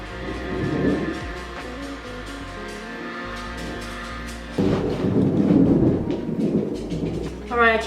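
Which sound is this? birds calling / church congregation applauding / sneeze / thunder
thunder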